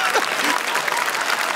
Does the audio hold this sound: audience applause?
yes